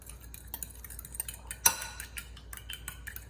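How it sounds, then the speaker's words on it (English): Whisking Parmesan cheese into a bowl for carbonara with a fork, giving light, quick clinks and taps of metal against the bowl, one sharper knock standing out among the close, irregular scraping. "Just gonna put them all in there and whisk it really nicely."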